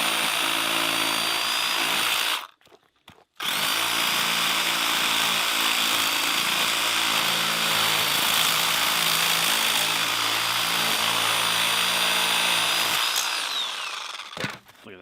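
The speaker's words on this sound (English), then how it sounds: "we're using the Sawzall and it's just blazing through these bones" A Sawzall reciprocating saw cuts through moose bones, a loud steady buzzing drone that runs nearly continuously with one short pause early on, close up.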